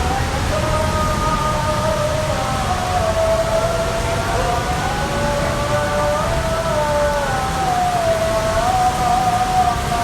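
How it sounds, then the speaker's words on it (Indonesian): Heavy rain pouring in Depok while someone shelters, a loud, steady wash of rain under a wavering siren-like whine that rises and falls throughout. "Hujan gila, ini gue lagi neduh."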